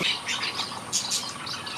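Small finches, including zebra finches, chirp in a huge aviary, a busy overlapping flurry of high, thin tweets and squawks, moderately close and fairly soft, with no voices present.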